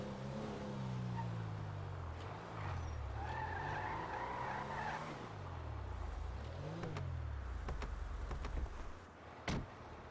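A car in a driving video game skids and revs, with engine pitch rising and falling in repeated swells and tire squeal throughout, plus a couple of sharp knocks near the end.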